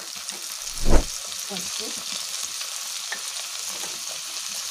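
Ginger garlic paste and tomato pieces frying in a pan for egg keema curry, a steady soft sizzle throughout with a brief louder burst near the start, and a single word spoken over it.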